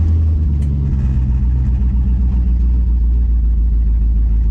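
A car engine from a project car runs steadily at close range, a loud, continuous low rumble with no voices over it.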